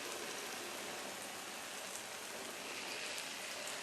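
Simulated rain falling on a watershed model, a steady, soft hiss of fine droplets pattering on the surfaces, continuous and fairly quiet with no talking.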